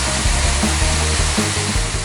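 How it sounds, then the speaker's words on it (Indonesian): A small stream of water trickles from the rocks at the edge of a natural cave beside a clean forest river, a loud, dense and continuous rushing like falling rain, close up, with no voices. "Ada aliran air kecil nih dari batu yang di pinggir sini. Jadi rasanya kayak hujan"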